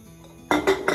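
Glass canning jars for pressure-canning beef bone broth clink together as they are set out, three bright close knocks following a quiet moment.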